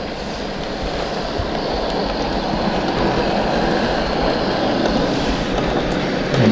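A Hornby model train of GWR Collett autocoach type runs along a layout, giving a steady, close rumbling whirr of motor and wheels on track that holds at an even level throughout without a break.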